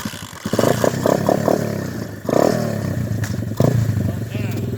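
A Tao Tao 125 dirt bike engine runs close by with a revving, slightly clattering tone, sitting under steady talk from people nearby throughout.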